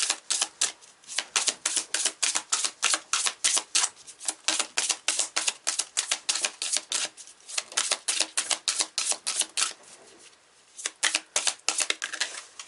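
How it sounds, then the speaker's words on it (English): Rapid shuffling of a small tarot deck, a steady run of crisp riffling bursts repeating close to the mic with short pauses, no voices. "There's not many cards, so it's interesting to shuffle these."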